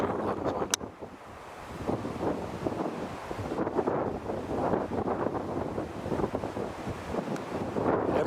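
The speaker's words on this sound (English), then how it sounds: "It's too windy" Strong outdoor wind buffets the microphone continuously, producing a heavy, rumbling roar with gusty surges and no speech.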